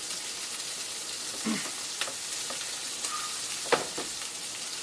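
Pork chops and apples searing in a hot pan give off a steady, close sizzle, broken by a few brief clinks and scrapes as the food is shifted.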